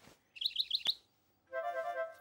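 A cartoon bird in a children's animated show gives a quick series of four high chirps, then after a short pause a longer warbling tweet, clear and close against a quiet background.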